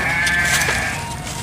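Sheep bleating on a farm with fields and gardens nearby, a single drawn-out bleat heard close and clear over a constant background hiss.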